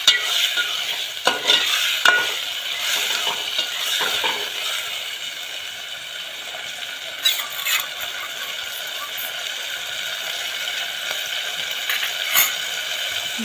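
Tomatoes fry in oil on a gas flame turned to full, giving a loud, continuous sizzle with occasional clacks and scrapes from stirring.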